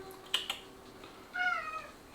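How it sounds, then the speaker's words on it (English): A single drawn-out cat meow, fairly quiet, follows a couple of soft taps in an otherwise calm room, near a pot of boiling curry. "Just notice that the cat wants to come in."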